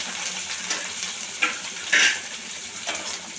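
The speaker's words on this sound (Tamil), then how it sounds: "நல்லா வதங்கட்டுங்க ஒரு நிமிஷம் பூண்டு நல்லா வதங்கிடுச்சுங்க" Garlic sautéing in a pan for chutney, a steady soft sizzle and crackle with a few louder spits and stirring scrapes near the middle.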